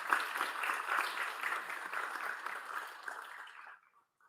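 Moderate applause at a county board of education meeting, honoring reward schools, with steady clapping from a modest crowd that thins out and stops near the end.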